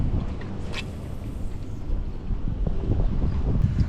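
Wind on a lake during a fishing outing buffets the microphone with a steady low rumble and gusty roar, close and continuous.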